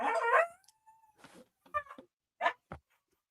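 A pet dog howls and whimpers in short bursts: a wavering howl first, then a thin sustained whine and several brief yelps separated by silence, close and fairly clear.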